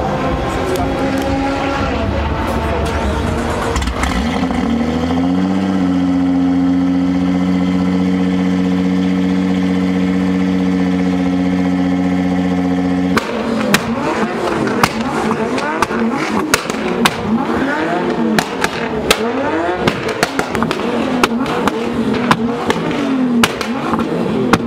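Car engine at a rally-style gathering of tyre-burning enthusiasts: a steady idling drone holds for several seconds, then breaks into rough, loud revving bursts, with people talking nearby.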